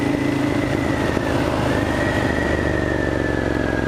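A 2000 Ducati Monster 1100 Evo ridden on roads in Singapore, its engine droning loud and continuous from close range, with the pitch slowly rising and steadying as the bike cruises.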